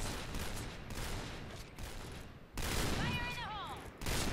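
Gunfire in the video game Point Blank, a dense continuous rattle of rapid shots with brief breaks, loud and close, with a voice talking over part of it.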